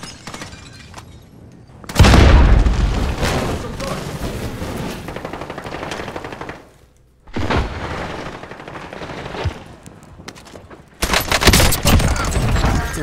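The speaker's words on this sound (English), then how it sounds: "Throwing grenade." Video game gunfire and a grenade blast fill the scene, with loud bursts of rapid automatic fire cutting in and out and a heavy crack and boom partway through, with no one speaking.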